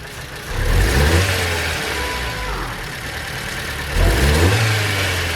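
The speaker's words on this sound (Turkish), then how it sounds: "Gaza alıyorum. Şu an gazda." A Fiat Palio 1.2 car engine with an overheating problem is revved on the throttle, rising twice in two loud surges with a sustained rough, slightly uneven hum between them, heard up close.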